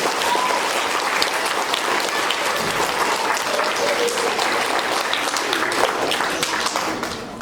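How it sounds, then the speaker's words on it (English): Sustained applause from a crowd at a school quarterly awards assembly, a dense even wash of clapping that stays loud throughout and fades slightly at the end. "Big round of applause."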